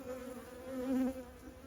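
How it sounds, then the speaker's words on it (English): Honeybees buzzing during a beehive inspection, a steady close droning hum that swells briefly louder as bees pass near, with no talk. "Lots of bees,"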